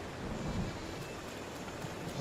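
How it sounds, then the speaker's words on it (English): Thunder rumbles under steady rain during a lightning storm in Breath of the Wild, with a low roll rising early and a constant hiss of falling rain. "that will get struck by lightning"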